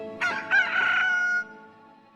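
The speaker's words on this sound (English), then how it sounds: "walking my rooster" A rooster crows once, close and loud, with a sharp rising start and a long held call that fades out over a couple of seconds.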